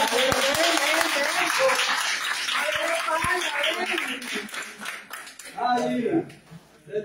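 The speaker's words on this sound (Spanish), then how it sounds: "Un aplauso para Gary." Audience applause rolls on for several seconds, many hands clapping together, then thins out as voices and a few sharp sounds come through near the end.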